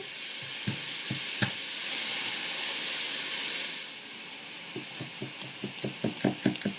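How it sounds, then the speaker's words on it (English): Steak sizzling in a hot pan, a steady bright hiss that swells and fades, with a few close knocks and a quick run of chopping taps near the end. "Our steak's cooking."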